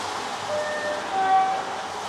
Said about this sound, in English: It's a very nice horn.